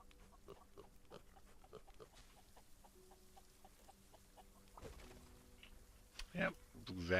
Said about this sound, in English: We're going to try to lure the pigs in here.